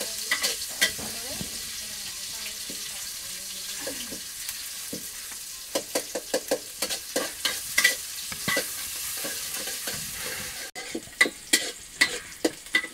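Chopped onion and garlic frying in a little oil in a village kitchen, a steady soft sizzle broken by repeated sharp scraping and stirring taps of a spoon against the pan.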